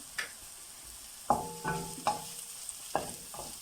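A spicy mixture of tinned pilchards is stirred in a pan, with about half a dozen sharp clinks and scrapes of a utensil against metal over a quiet, low sizzle.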